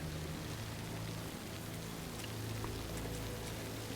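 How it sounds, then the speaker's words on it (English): Steady rain falls across the moorland of Dartmoor, England, in the Hitman game, a dense, even patter with a soft low background rumble throughout, no voices. "And it rains a lot here, by the way."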